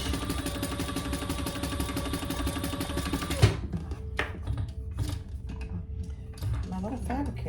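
A sewing machine stitching a seam in cotton quilting fabric for a hobo shoulder bag, running in a fast steady rhythm for about three seconds, then stopping, followed by scattered handling clicks.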